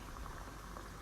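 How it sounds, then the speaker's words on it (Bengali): Pakon pitha fries in hot oil, a constant dense bubbling sizzle heard close and steady for a brief moment. "এই তো এদিকে আমার পিঠাটা ভাজা হয়ে যাচ্ছে।"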